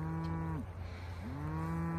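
Cattle grazing on pasture on a low-input ranch in spring: two long, loud, close moos, the first falling off and the second starting after a short pause, over steady outdoor background noise.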